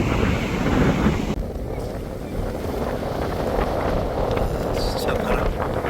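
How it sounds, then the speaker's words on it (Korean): A strong sea wind roars at a beach campsite on Korea's west coast, buffeting a two-story tent a couple of meters from the waves, a constant loud gusty rush with heavy microphone buffeting throughout. "진짜 바람 끝내주네. 진짜 끝내주네."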